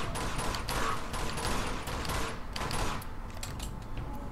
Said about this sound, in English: I'll use my sniper on them instead